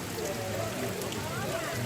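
Light rain falls steadily outdoors at a tongkonan, the traditional Toraja house, making a soft, even hiss of drops on surfaces throughout, with faint murmuring voices mixed in.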